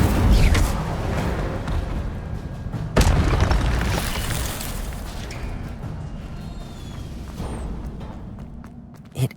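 Fiery Incendio spell blasts in Hogwarts Legacy, a heavy boom at the start and another sharp burst near three seconds, followed by a sustained rumbling roar that slowly fades, with a final small pop at the end.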